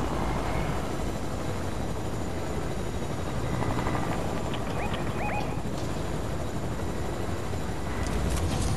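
A video game helicopter drones loudly and continuously, its rotor wash a dense, unbroken roar filling the whole stretch, with a few brief chirpy tones cutting through midway.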